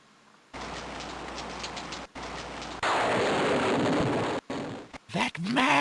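Rain pours down in the video game King's Quest VI, a loud, dense hiss that cuts in and out in abrupt blocks, swelling heavier partway through before breaking into rougher bursts at the end.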